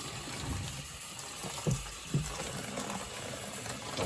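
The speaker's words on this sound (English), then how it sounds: "hold it underneath the water that I'm going to turn on" Tap water runs steadily over hands at a sink, a continuous hissing flow broken by two brief splashy bumps near the middle.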